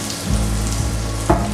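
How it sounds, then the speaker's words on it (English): Chopped potatoes going into a hot pan of melted fat, giving a steady, close frying sizzle with a soft clatter where they land and settle, no talking. "Now I'm going to add in my potatoes."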